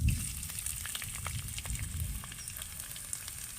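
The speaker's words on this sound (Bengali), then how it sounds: "এবার ওই তেলের মধ্যেই আমি ফোড়নের জন্য দিয়ে দেব অল্প একটু কালো সর্ষে আর দিয়ে দেব অল্প একটু গোটা জিরে সেই সাথে আমি দিয়ে দেব আদা কুচি" Black mustard seeds, whole cumin and chopped ginger sizzle and crackle in hot oil, a steady close frying hiss with scattered pops throughout and no talking.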